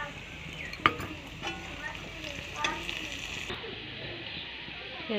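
Onions frying in hot oil with dried chillies in a pan for masoor dal, a steady crackling sizzle with occasional sharp pops and stirring scrapes, close by.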